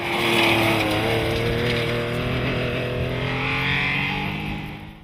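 Historic rally cars race along the Pirelli forest stage, a loud, sustained engine roar with rising and falling pitch, close by and continuous throughout, with no voices.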